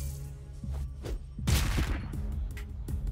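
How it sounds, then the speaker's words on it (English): A firecracker goes off in the South Park: The Fractured But Whole video game, a burst of sharp cracking pops over a low game-music bed, with no talk. "I'm surprised nobody even said anything for me shooting that firecracker."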